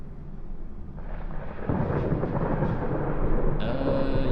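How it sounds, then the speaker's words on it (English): Thunder rolls and rumbles through a stormy night in a horror video game, a low continuous roar building louder partway through with a steady wash of rain-like noise beneath, no voices. "I love it when it storms, chat."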